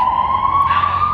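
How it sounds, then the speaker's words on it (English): An emergency vehicle siren passing outside holds a loud, steady high wail that rises slightly in pitch over one brief stretch, with no one talking. "A siren again."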